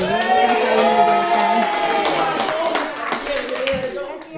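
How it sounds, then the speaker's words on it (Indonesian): A classroom group claps and cheers together, with voices talking and calling out over the busy, ongoing applause. "Tepuk tangan."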